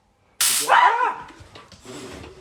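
A dog lets out a sudden loud bark up close, followed by a rough whining yelp and softer fading noises, with a little talk around it.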